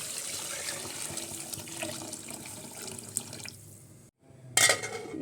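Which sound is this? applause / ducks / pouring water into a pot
pouring water into a pot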